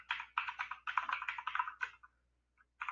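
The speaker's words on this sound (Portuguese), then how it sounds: "vou começar a digitar para vocês verem" Quick typing on a computer keyboard in Notepad++, a fast run of close key clicks for about two seconds, then a pause and a few more keystrokes, with no talking.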